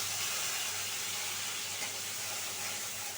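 Ginger and green chilli paste sizzles in a pan over a lowered gas flame, making a soft, steady, faint hiss that runs unbroken throughout with no speech.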